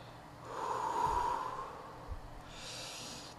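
Deep breathing after eating a Trinidad Scorpion pepper: one long, close, forceful exhale that swells and fades, followed by a softer, breathy second breath.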